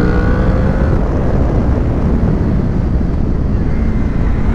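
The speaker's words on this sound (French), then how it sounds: "on entend là le VTEC qui gronde" A 2006 Honda VFR 800 VTEC motorcycle engine roars through bends, heard as a loud continuous low rumble heavily buffeted by wind noise, close and sustained.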